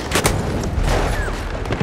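Gunfire in the World War I shooter Battlefield 1, a dense burst of sharp shots and booms in close, overlapping volleys that fill the whole moment, loud and continuous with no voices on top.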